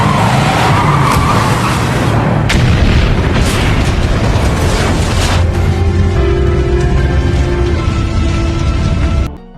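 A gang's drug lab in the 2011 action film Recoil explodes after a car crashes into it, giving a loud booming blast with heavy rumbling and crashing debris that lasts several seconds before cutting off abruptly.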